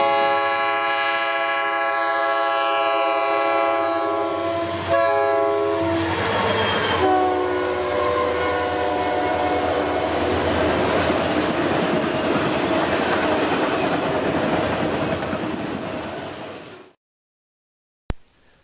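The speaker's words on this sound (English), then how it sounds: "an eastbound autorag train with a pair of Blue Bonnet EMD SD40-2s speeds past the platform" An eastbound autorack train led by two Blue Bonnet EMD SD40-2 locomotives in Garry's Mod speeds past a platform. A loud sustained horn chord opens, then rolling wheel rumble and clatter hold steady before cutting off sharply near the end.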